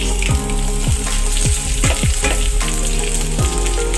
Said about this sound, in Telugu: ఇవన్నీ ఫ్రై అవుతున్నాయి కదా